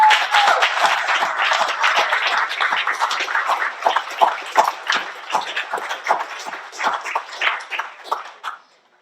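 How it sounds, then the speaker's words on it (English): A crowd applauds state representatives and a mayor at a recovery center opening, a dense burst of clapping that is loud at first and gradually thins out and fades to quiet. "Let's give them a round of applause."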